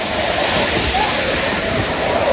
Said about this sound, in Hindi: तेज बारिश के दौरान पहाड़ों से पानी तेज बहाव के साथ मंदिर के रास्ते पर बहता है